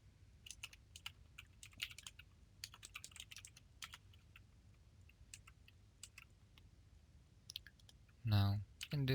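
Quiet clicking keystrokes on a computer keyboard while writing Android Studio app code, irregular bursts of taps across the clip, ending in a short loud noise.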